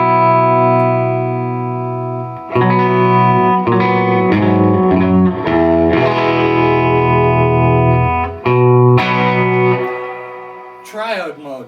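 An electric guitar with P90 pickups, tone knob rolled back slightly, plays through a Carr amplifier a short run of chords and single notes with a warm, slightly overdriven tone and reverb tails, loud and close.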